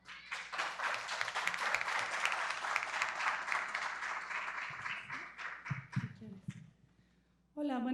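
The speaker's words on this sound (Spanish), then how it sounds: "Démosle también, por favor, un fuerte aplauso." An audience at a book presentation gives a long, loud round of applause, a dense clapping that fades out over several seconds, after which a voice starts speaking.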